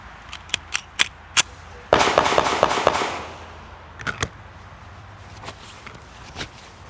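Handgun shots ring out in a timed defensive shooting drill at a shooting summit: a few sharp separate reports, then a fast burst of about five rounds, then two more, loud and close with some outdoor echo.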